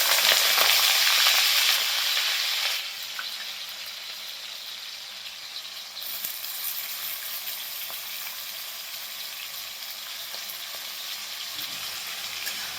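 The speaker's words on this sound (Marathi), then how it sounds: "बटाटा चांगला आपल्याला फ्राय करून घ्यायचा आहे बघा, लाल होईपर्यंत." Washed, cut potato pieces fry in hot oil in a pan for sabudana khichdi, giving a loud, steady sizzle that is strongest in the first few seconds and then settles into a softer, even hiss, with no talking.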